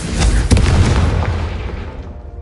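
Confringo, the blasting spell in Hogwarts Legacy, erupts in a loud, close explosion with a deep boom and crackling burst that rolls off and fades over a couple of seconds.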